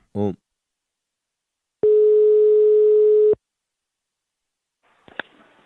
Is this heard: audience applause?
no